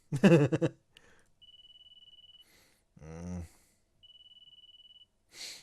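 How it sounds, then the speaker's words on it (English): Phone ringing in the Hoshi Ori Yume Mirai video game: two bursts of a fast, thin electronic trill, each about a second long, separated by short snatches of other game sounds and a brief voice. "Wake up to the sound of my phone ringing"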